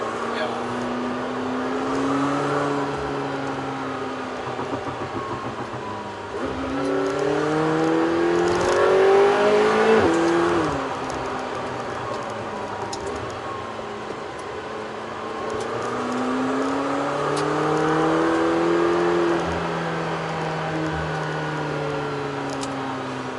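McLaren supercar engine heard from inside while driving, a steady droning hum that swells twice as the revs climb and fall, with people talking over it in the cabin.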